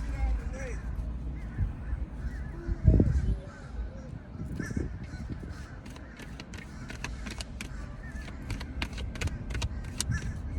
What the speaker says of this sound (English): Birds in the middle of the street getting to this apple.